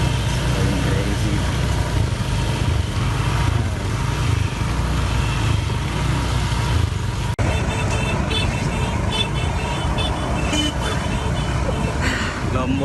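Car and motorbike engines idle steadily in gridlocked traffic near the MotoGP circuit at Mandalika, Lombok, a dense continuous rumble with voices mixed in and one brief sharp knock partway through.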